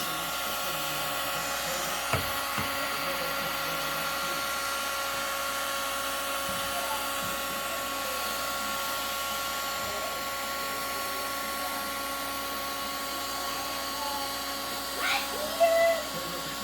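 A heat tool blows a steady whirring drone while it is passed across a vinyl flooring toe board, continuous and fairly close, with a few faint clicks and bumps along the way.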